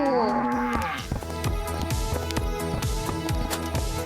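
A cow gives a drawn-out moo near an animal transport truck in the opening second, followed by a steady rhythmic musical beat that carries on to the end.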